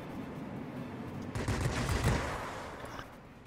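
Aircraft cannons rattle in a dense burst of gunfire from a Vampire F.1 jet fighter in World of Warplanes, lasting about a second mid-clip over a steady engine drone. No one speaks.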